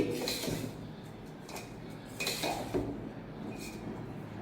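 Red rice puttu flour being mixed with ghee in a bowl gives light clinks and scrapes of a ladle against the dish, a few soft taps spaced apart, quiet and close with no talk.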